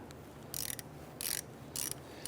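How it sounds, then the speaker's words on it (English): A 1/4-inch ratchet fitted with a 5/16 deep socket loosens a rust-soaked bolt while replacing lower ball joints on a 1999-2004 Jeep Grand Cherokee, giving three short bursts of rapid clicking, close and crisp. "Now we're going to use a 5/16 deep socket in our 1/4-inch ratchet. We want to go ahead and loosen the bolt here."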